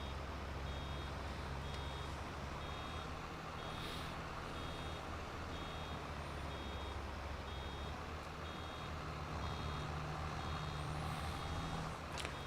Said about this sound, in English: I really wish you could turn the warning beeper off too